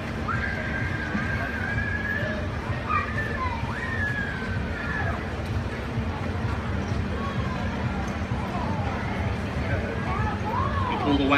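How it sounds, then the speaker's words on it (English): Budweiser Clydesdale horses in an 8-horse hitch maneuvering at a fair, with whinnies and neighs rising over steady crowd and outdoor background noise, a voice talking underneath throughout. "the driver swings the complete 8-horse hitch 90 degrees"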